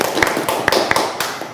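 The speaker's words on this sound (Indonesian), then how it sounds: "Luar biasa sekali, tepuk tangan dulu apa untuk teman-teman kita." Talk show audience clapping for guests, a dense broadband patter with a few sharper individual claps standing out, fairly close and steady throughout, with no talking.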